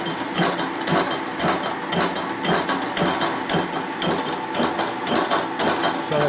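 A machine cutter working a motorcycle wheel on a Harley build in a machine shop, a steady, loud mechanical whir with a regular pulsing rhythm throughout, near and without speech.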